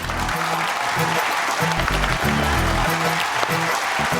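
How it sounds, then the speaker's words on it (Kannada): Loud, steady applause from a studio audience at a Kannada TV comedy show, continuous clapping over a music bed without a break. "ನಿಮ್ಗೊಂದು ದೊಡ್ಡ ಚಪ್ಪಾಳೆ ಬರ್ಲೇಬೇಕು."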